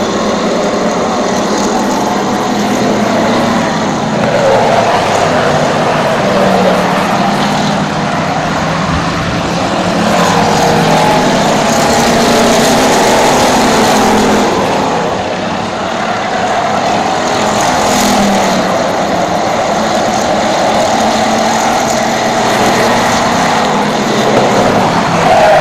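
Race cars lap an oval track during a 25-lap feature, with one car slipping and sliding through turns three and four. Engines roar loudly and continuously, rising and falling as the cars pass.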